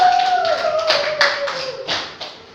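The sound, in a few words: applause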